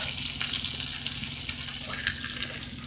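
A bone-in ribeye steak sizzles steadily in a pan, with a constant close crackle and small pops that run unbroken throughout, no voices over it.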